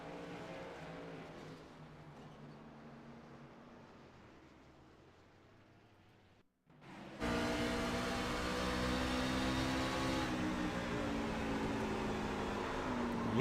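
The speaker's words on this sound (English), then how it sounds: "You can hear the tires break loose. The truck sliding, and it finds the outside wall." Racing trucks in a Scrambler Series short-track race roar as one truck's tires break loose and it slides toward the outside wall; steady engine drone, then a sudden louder, harsher burst of engine and tire noise close by.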